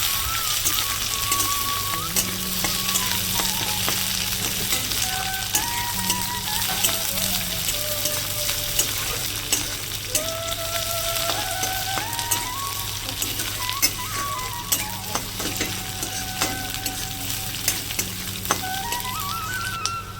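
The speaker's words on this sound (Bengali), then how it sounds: "এটাকে হালকা করে ভেজে নেবো আমি" Onions frying lightly in a pan, a continuous crackling sizzle like rain on a surface, steady and close, with a faint tonal melody playing underneath throughout.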